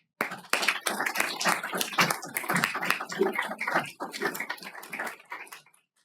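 A burst of lively applause from a room full of people, dense clapping that swells and then tapers off to silence.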